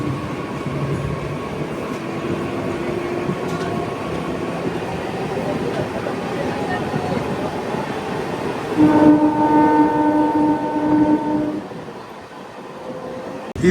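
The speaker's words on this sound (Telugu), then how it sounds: "అటు సైడ్ నుంచి ఒక ట్రైన్ అయితే వస్తుంది" A passing Yesvantpur to Ambedkar Nagar express train rumbles steadily past a moving MEMU passenger train, then sounds a loud sustained horn for about two seconds before the roar fades.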